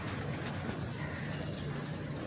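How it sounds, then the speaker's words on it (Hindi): Breeder pigeons of a dub-type show line coo softly in a loft, a low murmuring purr running continuously beneath a steady background hiss. "ये उस्ताद मलिक मुबशर खोकर साहब के जो डब वाले कबूतर हैं ना, ये उनमें से हैं।"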